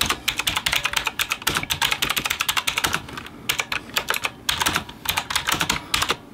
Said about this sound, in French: Je vais essayer de taper quelque chose sur Word.